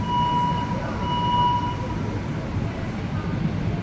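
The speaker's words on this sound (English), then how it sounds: "Our train's leaving now anyway." Montréal Métro train pulling out of Côte-Sainte-Catherine station, a steady low rumble of rolling stock with a thin tonal whine near the start, continuous and close with faint voices in the background.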